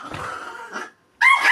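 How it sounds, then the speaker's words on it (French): Dogs fighting nearby, two loud bursts of barking and snarling growls with a brief gap between them. "C'est rien, c'est les chiens qui se bagarrent."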